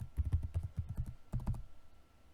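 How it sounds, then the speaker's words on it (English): Keys clatter on a computer keyboard in quick, close, quiet bursts of about a dozen strokes, then stop. No one speaks. "type your idea,"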